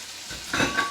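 Pork hits a pan of softened onions on high heat for a ragu, a brief sizzle that swells into a louder hiss partway through.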